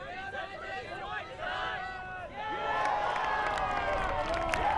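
A large crowd at a men's ultimate frisbee final in Australia gives off a broad hubbub of voices and cheering that swells louder partway through, with scattered clapping and a commentator talking over it.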